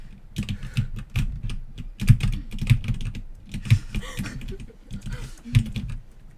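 Computer keyboard typing during a live-streamed game session: scattered quick clacks and taps mixed with low thumps, fairly close and moderately loud, over game sounds, with a person talking at times.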